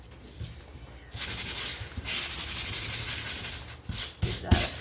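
Hand sanding of a craft pumpkin, heard as soft, close scratchy rubbing strokes in an irregular rhythm, quiet and alone.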